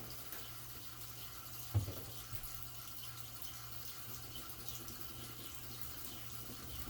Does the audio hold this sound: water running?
yes